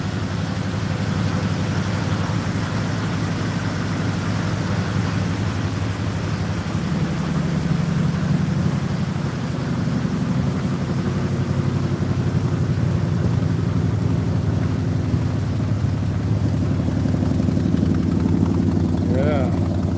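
A 1972 Highboy truck engine idles steadily with a deep, continuous low rumble, fairly close and unbroken for the whole stretch, with faint voices in the background.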